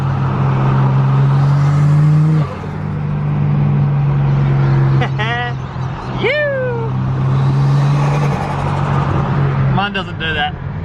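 A Datsun 280ZX drives along on an evening road, its engine droning steadily with a dip in pitch at a gear change, while brief chirpy squeaks rise over the hum.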